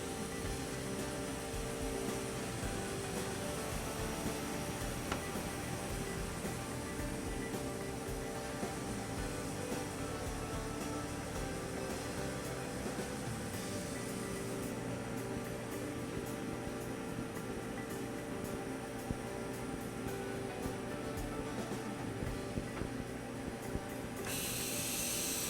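A liquid photopolymer plate casting machine runs with AVantage resin as its carriage moves, giving a continuous faint mechanical whir and hum with steady tonal lines and a slight change in texture midway, with no voices.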